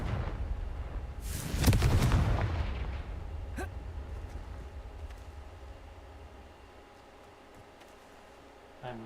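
A Confringo explosive spell in Hogwarts Legacy lands as one loud, booming blast that rolls away over a few seconds, followed by a quieter game background with a faint later crack.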